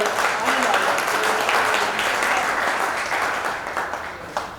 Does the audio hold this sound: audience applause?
yes